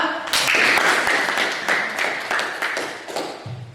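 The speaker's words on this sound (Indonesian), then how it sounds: "Iya, tepuk tangan untuk kelompok 2." A classroom group applauds a student group after a presentation, a burst of many hands clapping close by that fades gradually over a few seconds.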